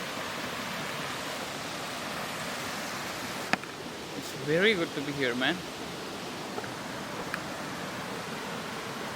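A backyard waterfall and stream in the Konkan region send out a steady, close rush of falling water, with someone speaking briefly over it midway.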